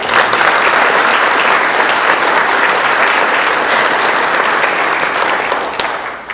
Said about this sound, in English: I do want to get a round of applause for Rick.